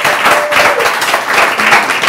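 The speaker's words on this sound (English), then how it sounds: "You should clap for me." Steady, close audience clapping fills the whole short stretch at an even, dense level with no pauses.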